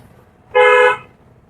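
A single short car horn toot, loud and close, lasting about half a second against a quiet background.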